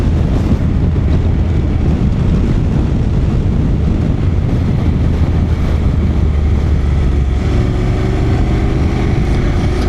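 Strong wind roars steadily over the microphone while riding a Honda NC750X motorcycle, a loud continuous rush with engine drone underneath and no talking.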